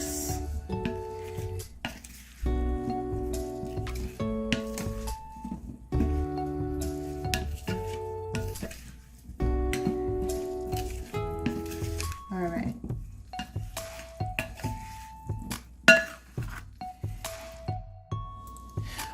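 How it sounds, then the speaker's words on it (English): Tofu seasoning with black pepper is stirred and mixed in a bowl, giving soft squishing and scraping with occasional clinks of a utensil. The sounds come in repeated strokes under steady background music. "Now I'm gonna mix."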